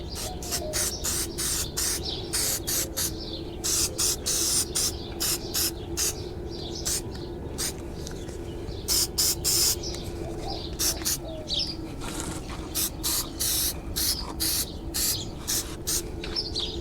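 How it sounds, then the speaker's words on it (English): Aerosol can of plastic adhesion promoter sprayed in a series of short and longer hissing bursts, close and loud, with birds cooing and chirping faintly in the background. "Next thing I'm going to use is going to be my plastic adhesion promoter. I'm going to give it a coat of this."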